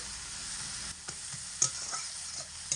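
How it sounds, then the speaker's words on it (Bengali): Leafy greens tossed with turmeric and salt in a pan hiss softly, with light, scattered stirring taps and one brief metallic clink. "আর পরিমাণ মতো হলুদ গুঁড়ো লবণ আর হলুদ দিয়ে শাক খুব ভালো করে নাড়াচাড়া করে নেব"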